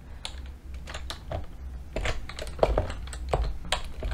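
Fingers type on a computer keyboard in quick, irregular bursts of crisp clicks, close and clear with short pauses between runs of keystrokes and no voices.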